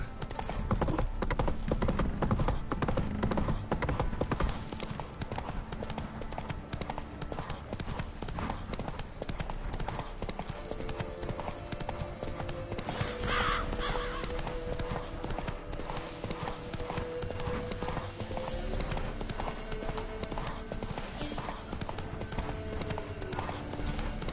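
Roach the horse galloping in The Witcher 3, hooves clip-clopping in a fast, steady rhythm that runs throughout, mixed with game music and a brief faint voice.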